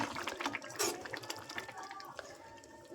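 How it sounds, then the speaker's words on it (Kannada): A pot of greens curry seasoned with salt and chilli bubbles and boils on the stove, giving soft close gurgling and popping that rises and falls under a quiet background. "ಕೊತ್ತ ಕೊತ್ತ ಅಂತ ಕುದೀತಾ ಇದೆ"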